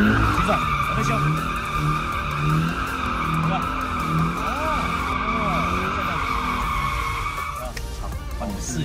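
A car drifts during drift-driving training, its tires skidding in a loud, continuous squeal close to the listener while the engine note rises and falls underneath and an instructor talks over it.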